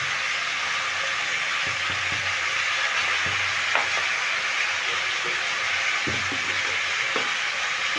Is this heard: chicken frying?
yes